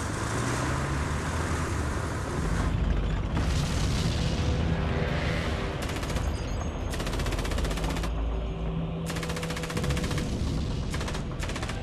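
Russian T-34 tanks retaliate in a World War II battle with rapid bursts of machine-gun fire, heavy booms and explosions, loud and continuous throughout with repeated clustered volleys.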